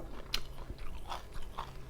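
Someone chews tough raw kale up close, a few crisp bites and soft crunching chews spaced across a quiet moment.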